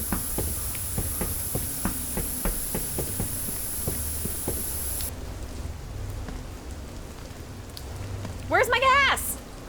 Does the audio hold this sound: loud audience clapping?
no